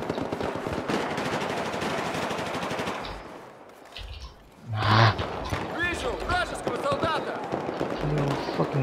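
Rapid automatic gunfire from the video game Battlefield 4 rattles in dense bursts, pauses briefly, then returns in sharper shots mixed with game effects, with a voice talking over it.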